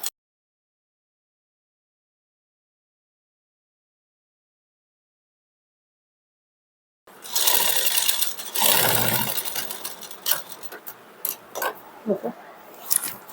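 A sewing machine stitches pinned pleats into a puff sleeve after a long stretch of silence, with bursts of motor whir and needle clatter starting and stopping in short runs.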